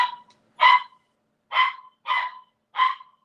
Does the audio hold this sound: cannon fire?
no